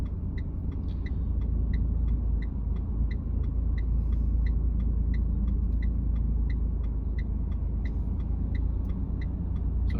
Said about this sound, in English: There's a few cars coming towards me on the left.